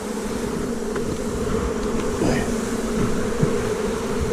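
A honeybee colony being prepped for winter buzzes in a dense, steady drone, loud and close, with no voices over it.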